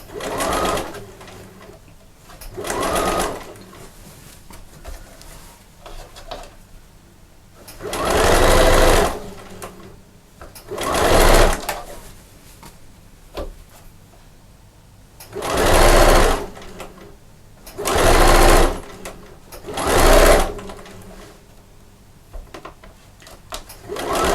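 A domestic sewing machine stitches the lining of a sewing machine cover in short bursts, about eight distinct runs of rapid whirring separated by quiet pauses, close and clear.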